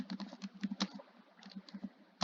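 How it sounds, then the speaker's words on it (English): Fingers type quick, irregular keystrokes on a close-up computer keyboard while entering answers into a Scratch 3.0 multiple-choice quiz, with short pauses between clusters of key taps and no talking. "So they only need to type in the letter"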